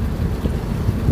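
Passenger ship at sea bound for Ormoc, Leyte: low rumbling engine and water wash mixed with gusty wind buffeting the microphone, steady and close.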